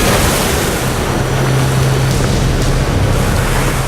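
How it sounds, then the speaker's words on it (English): Storm waves up to five meters pound around a sailing boat at sea in winds over 50 knots, with a steady, dense roar of wind and water, buffeting the microphone without a break. "Winds are over 50 knots, and the waves are as high as 5 meters."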